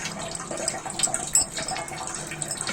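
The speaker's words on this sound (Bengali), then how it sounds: "ব্লেন্ড করা যায় না তাই একটু পানি দিতে হয়" Water is poured into a blender jar over onion, ginger, garlic and soaked lentils for jackfruit fritter batter, a steady close trickle and splash with no talking.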